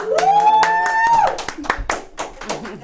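Studio audience clapping loudly, a burst of hand claps mixed with a host's voice and other talk over the top.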